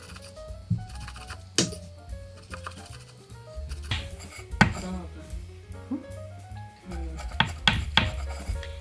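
A plate's edge slices through warm mugwort rice cake, producing irregular soft chopping taps and scraping knocks against a surface, close by, with quiet talk in the background.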